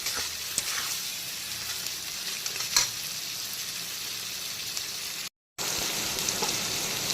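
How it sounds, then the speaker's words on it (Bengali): Spice masala frying in a pan for a prawn and grated-coconut dish, a steady close sizzling hiss throughout with occasional stirring scrapes and one brief cut to silence. "তো পুরো মশলাটা কিন্তু বন্ধুরা খুব সুন্দর করে কষানো হয়ে গেছে।"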